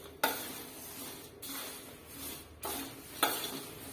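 Poha chivda mixture being stirred in a pan, with a few distinct scraping sweeps of the spoon against the metal over a soft background sizzle, close and moderately loud, no talking.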